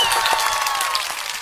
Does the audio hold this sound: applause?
yes